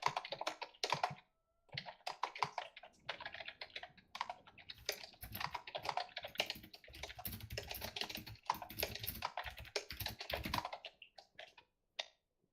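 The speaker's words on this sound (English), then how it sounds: "Yeah, mad typing, dude." Fast, continuous typing on a computer keyboard. Keys clatter in dense bursts with brief pauses, steady and close throughout, and no one speaks.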